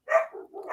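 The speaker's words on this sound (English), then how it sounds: "dogs are barking" Dogs barking during a live podcast broadcast, one brief, close yip-like bark followed by a lower, softer whining bark, all within under a second.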